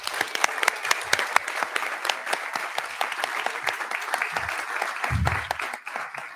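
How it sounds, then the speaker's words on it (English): Applause from the audience at a Chattanooga City Council meeting honoring a youth baseball team, moderately loud crisp clapping from a room of people, steady and continuous with a brief low thump near the end. "So I'd like to give them a round of applause."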